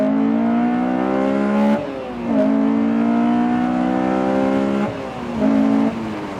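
A Honda S2000's F20 engine revs hard in two long climbing pulls, each dropping off briefly before rising again, loud and close with a steady harmonic whine and no voices.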